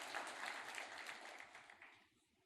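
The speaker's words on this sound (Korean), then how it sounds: "한 번 더 박수로 찬양," A church congregation claps during a Sunday worship service, a dense, steady applause that carries on loudly and then tapers off toward the end.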